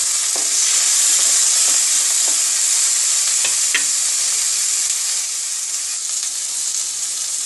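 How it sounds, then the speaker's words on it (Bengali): Tomato stirred into hot oil in a frying pan for a vegetable dish, producing a loud, dense continuous sizzle with a few faint spatula scrapes, close up. "এটার মধ্যে টমেটোটা দিই। এটা একটু নাড়াচাড়া করবো।"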